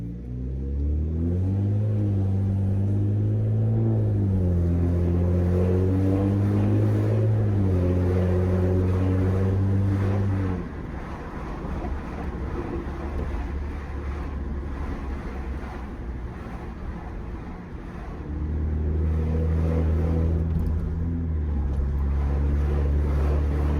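A loud, steady low-pitched exhaust drone from a BMW 335i N54 with the muffler deleted hums continuously in city driving, easing off midway before the heavy rumble returns.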